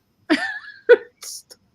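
A few sharp, close coughs in quick succession, the last ending in a brief raspy breath.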